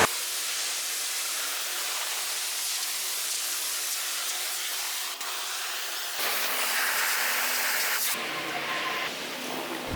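Steady hissing water spray from washing a motorcycle, a continuous broadband rush that shifts in intensity as the nozzle moves, with no talking.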